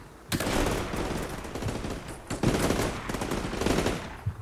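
Incoming grenade launcher fire in Combat Mission: Black Sea, dense rattling bursts of rapid shots and impacts in three loud waves, close and continuous.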